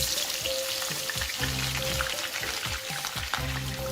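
Onions go into hot masala for mixed dal, setting off a loud, steady close frying sizzle with crackling and some clattering stirring, with background tonal hum throughout.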